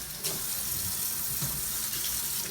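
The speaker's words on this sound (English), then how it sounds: "it's really important to wash your hands" Water runs steadily from a kitchen tap as hands are washed with soap and hot water before preparing vegetables, a constant close hiss with faint splashing.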